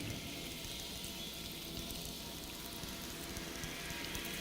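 A cassette tape loop gives off a dense, even hiss and patter that resembles steady rain, continuous and fairly quiet with no voices.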